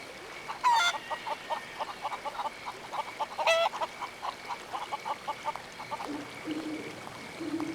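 A rooster clucks repeatedly in the video game Haunted, a steady run of short, close clucks with a couple of louder squawks, over a faint background hum and a few soft tones.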